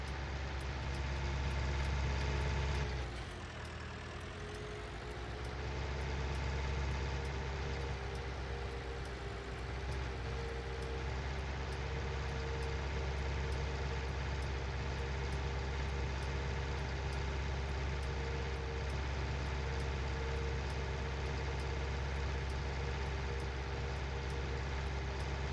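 A tractor engine in Farming Simulator 19 drones steadily and loud throughout, with a low continuous rumble that dips briefly near the start before settling back into an even hum.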